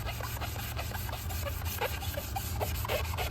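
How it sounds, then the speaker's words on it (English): Hand sanding by rubbing abrasive paper back and forth, a steady rapid rasping scrape repeated in quick strokes, close and continuous over a low hum. "sand it by hand, man"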